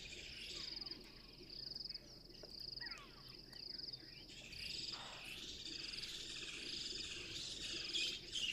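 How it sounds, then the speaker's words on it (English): Birds call in the bush at Djuma, repeated high thin chirps in short bursts over a faint insect and frog hum. The calls are quiet and distant, and no one speaks. "You can hear the birds are also now going a little crazy."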